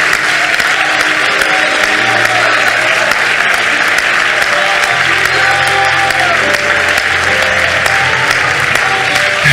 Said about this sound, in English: give the Lord about a 30-second thunderous